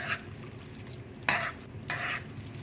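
A shrimp and crab burger mix with spinach, red peppers and a little breadcrumb is folded by hand or spoon in a bowl, giving three soft, wet, squelching strokes against a quiet background.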